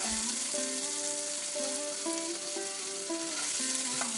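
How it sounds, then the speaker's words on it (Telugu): Onions, green chillies and turmeric fry in hot oil in a pan for a village-style crab curry. A steady, close sizzle runs throughout, with faint tonal hums and brief clinks, and no one speaks. "నూనె బాగా వేడెక్కిన తర్వాత అందులో ఉల్లిపాయలు పచ్చిమిరపకాయలు అలాగే కొంచెం పసుపు వేసుకుని బాగా కలుపుకొని మగ్గనివ్వాలి"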